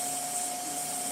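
Fine 2500 grit sandpaper held against spinning wood on a lathe while turning a top, giving a steady, even whirring hiss with a constant motor whine running through the whole moment.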